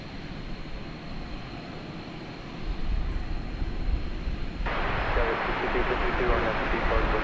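Airliner jet engines rumble at DFW Airport at night, a broad, continuous roar that swells louder partway through and stays strong. Air traffic control radio voices talk over it.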